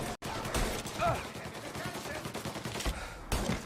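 Gunfire in Mafia: Definitive Edition during a chaotic firefight, bursts of shots crackling over dense game noise and music, with players talking throughout.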